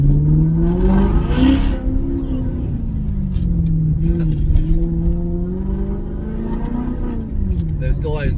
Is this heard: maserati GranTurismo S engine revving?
yes